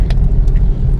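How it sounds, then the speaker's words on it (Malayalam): Vehicles rumble by on a road through Thodupuzha town in the morning, buses among the traffic. The low engine and tyre noise is steady and fairly loud, with no talk over it. "ഇതാ രാവിലെ ബസ്സൊക്കെ പോകുന്നുണ്ട്"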